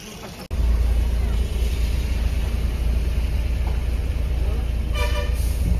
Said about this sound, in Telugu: మొత్తం ట్రాఫిక్ జామ్ అండి.